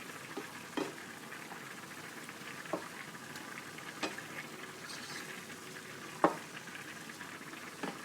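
Eggplant is stirred into cooked meat in a pan, making a faint, steady sizzle with soft scrapes and occasional sharper taps of the utensil against the pan.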